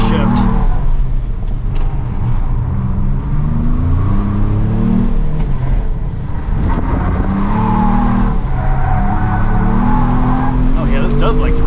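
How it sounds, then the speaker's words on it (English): A 7-speed automatic performance hatchback accelerating hard on a track, engine revving up and down through rising gear shifts, close and loud, with tire noise and a voice talking over it. "The 7-speed auto here is great. It just loves to shift."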